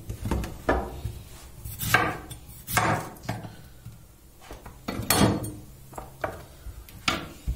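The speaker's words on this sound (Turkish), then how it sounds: "Domatesleri bu şekilde biraz kalın olacak şekilde doğruyorum" A knife cuts thick slices of tomato on a board in a kitchen, giving a series of separate knocking chops at an irregular pace, close and fairly soft, with no talking.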